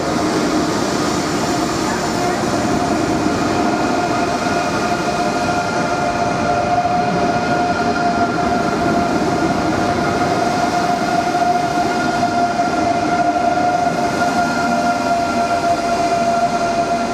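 An ICE3M high-speed train at Brussels-South station, heard as a loud, steady rumble and whine of rail noise filling the platform for the whole stretch, with a faint tonal hum over it.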